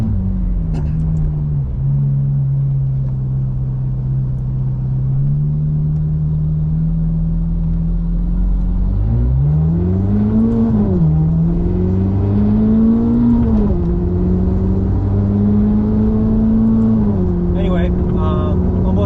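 A Lamborghini Superleggera sports car engine drones steadily while driving on the road, its pitch rising and falling as the car accelerates and shifts, loud and continuous throughout.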